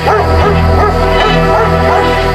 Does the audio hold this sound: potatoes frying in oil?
no